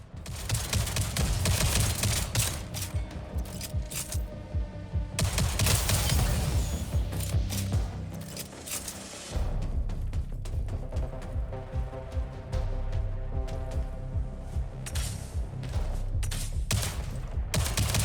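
Rapid bursts of gunfire from the video game Jump Ship roll on almost without pause for about eighteen seconds. The volleys are loud and close, with one brief lull partway through.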